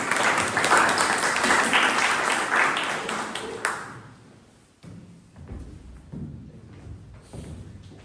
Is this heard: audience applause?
yes